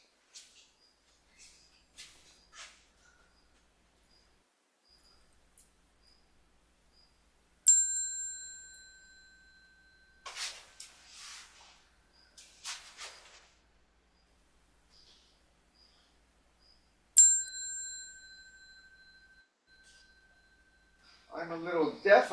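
A Zen ceremony bell rung by Washin during a zazenkai: two clear bright strikes that ring out and slowly decay, separated by quiet stretches with small clicks and rustles, and a voice speaking briefly at the end.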